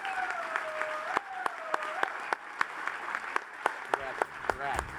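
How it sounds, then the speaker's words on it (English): At the 2019 NAAA Annual Convention presidential gala, scattered audience clapping rings out as auto auction winners are honored, with sharp individual claps over a thinner crowd applause and a high tonal hum, plus brief background voices. "please give a big round of applause to our 4-chapter Auto Auction of the Year winners"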